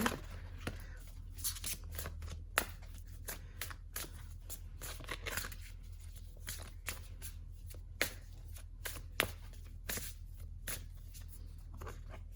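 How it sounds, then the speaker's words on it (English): Tarot cards shuffled and pulled from the deck, with soft riffling and sharp card snaps recurring irregularly, close and quiet over a low steady hum. "I'm going to pull some more cards here."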